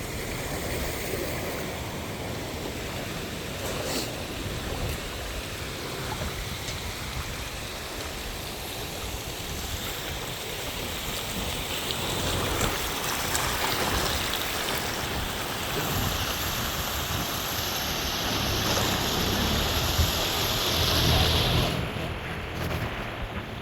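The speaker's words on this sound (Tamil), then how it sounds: "அங்கே இருக்கிற வெள்ளம் ஊர் வெள்ளம் முழுக்க இதுக்கால தான் ஓடி வருது" Floodwater rushes across a submerged road in Jaffna, a steady broadband roar of flowing water with wind gusts, continuous and fairly loud throughout.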